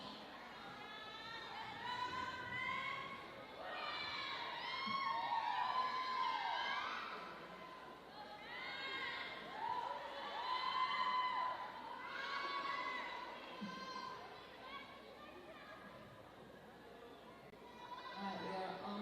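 Crowd cheering and shouting for Tahitian dancers at a Tahitian dance competition, a sustained mass of excited voices with whoops rising and falling over about nineteen seconds, fairly distant and moderately loud.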